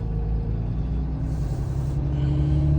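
Truck engine idling steadily nearby, a constant low rumble with a faint hiss over the top and no change in pace.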